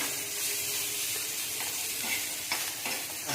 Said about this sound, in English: Just a small saute of the vegetables so that the rawness of the vegetables is gone.